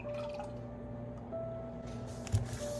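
Half a cup of buttermilk poured into cake batter, a soft, close liquid trickle and squish that stays steady and low, ending in a small plop, no voices.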